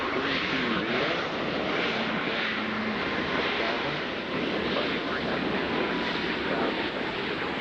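Icelandair airliner at Nashville International Airport (BNA), a steady, loud jet engine roar holding continuously throughout with wind-like broadband noise and no break.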